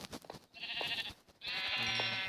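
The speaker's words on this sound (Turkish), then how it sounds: "İlk defa koyun buldum. Hem de 3 tane." Sheep bleating in a Minecraft-style survival video game, two sustained bleats from several sheep, the second longer and louder, with no talk.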